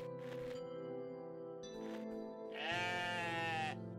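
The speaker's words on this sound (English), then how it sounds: "Oh, sheep." A video game sheep bleats several times, a few short calls followed by one long, wavering bleat, with no talking over it.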